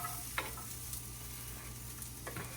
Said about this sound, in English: we're adding the onions, the rest of the onions here, because these are getting nice and crispy